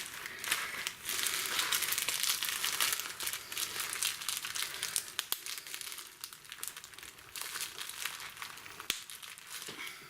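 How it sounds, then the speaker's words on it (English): Close, continuous crinkling and rustling of bubble wrap packaging being handled, with a few sharp crackles and pops scattered throughout. "This is kind of a bubble wrapping material or something."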